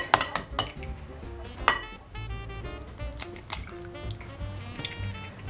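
Milk, egg and vanilla extract with honey being stirred in a bowl for potica nut-roll dough, giving close clinking and scraping of utensil against dish in an irregular rhythm, with some background music.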